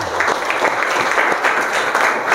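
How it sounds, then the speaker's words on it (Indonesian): Dense applause from a classroom audience of students, steady and fairly loud throughout with no talking over it. "Oke, tepuk tangan untuk kita semuanya."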